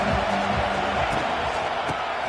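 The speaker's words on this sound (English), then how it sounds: "This crowd ready to make its presence known." College football stadium crowd at a UCLA versus Georgia game: a loud, dense roar of cheering voices that holds steady throughout, with a commentator's voice faintly mixed in.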